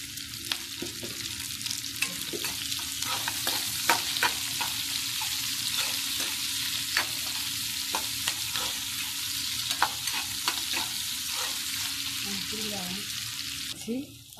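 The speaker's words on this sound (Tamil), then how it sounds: "உப்பு கொஞ்சோண்டு போட்டால் சீக்கிரத்தில் வதங்கிடும்" Onions sizzling with a pinch of salt in a pan for fish curry, a steady broad fry hiss with frequent scraping stir clicks throughout, close and continuous with no talk.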